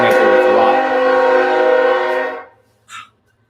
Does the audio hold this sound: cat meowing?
no